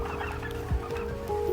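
Heavy male turkeys on a turkey farm in Ghana give clucking calls, a few close bursts over steady farmyard background with no talk.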